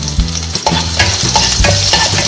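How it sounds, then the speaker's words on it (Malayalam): Small shallots sautéing in a pan give a loud, steady sizzle and crackle, broken by repeated stirring scrapes of a spoon through the oil, with no voices. "ഇനി നമുക്കിതിലേക്ക് ചെറിയ ഉള്ളി ചേർത്തൊന്ന് വഴറ്റിയെടുക്കാം"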